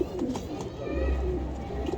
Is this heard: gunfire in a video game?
no